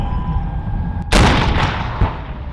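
An explosive charge blasts a breach through a minefield during a multinational live-fire exercise in Bulgaria. One sudden, very loud detonation cuts through steady background noise and rolls off into rumble, and a smaller thump follows about a second later.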